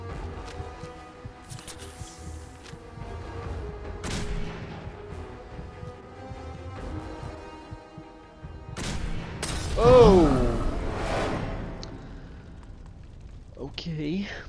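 Gunfire in Fallout 4 sounds as intermittent booming shots and bursts against a rumbling game background, with one louder blast cluster near the end and a voice talking faintly.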